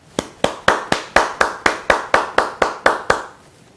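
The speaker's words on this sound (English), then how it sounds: "Give every one of you, all employees, all family members a big round of applause." Hands clapping about a dozen times in slow, even rhythm, close and distinct with no talk over it, given as applause for employees and family members of an Indian insurance company.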